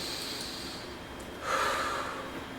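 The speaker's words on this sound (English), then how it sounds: "take a nice breath" A single deep breath drawn in close to the microphone, a soft airy inhale that swells partway through and then fades, with no talking.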